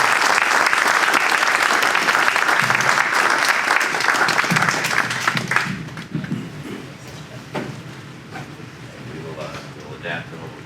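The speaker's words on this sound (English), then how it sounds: "Let's give them a round of applause." Audience applause honoring senior Hall of Fame alumni graduates at a university military panel event: a full hall clapping loudly and steadily for several seconds, then tapering off into murmuring and scattered voices.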